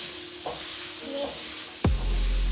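Mushroom pasta is stirred in a sizzling pan, with a steady frying hiss, soft scraping strokes and a louder clatter near the end, all fairly faint and close.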